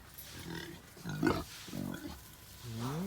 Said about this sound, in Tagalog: galit po ang Mama Pig